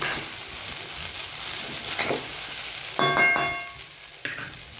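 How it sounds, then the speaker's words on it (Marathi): Okra (bhindi) fries in a pan over a low flame, giving a soft continuous sizzle, with a brief metallic clang and ringing clatter of utensils partway through. "आता थोड्या वेळा अशीच भेंडी ठेवूया."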